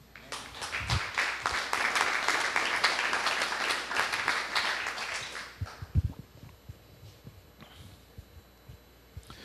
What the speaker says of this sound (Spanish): ¿Cuántos le aplauden?